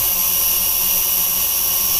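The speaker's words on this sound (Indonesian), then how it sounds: "apakah drone akan hover sini atau dia naik ke atas dulu atau langsung landing" An SG 900-S GPS drone hovers in place, its steady high-pitched rotor whine and buzz running loud and unbroken throughout.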